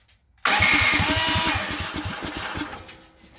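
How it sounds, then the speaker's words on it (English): A Duromax 440cc engine on full choke fires abruptly after a brief silence and settles into a loud, fast chugging run close by, easing off slightly toward the end. "Let's try full choke, see if it'll start."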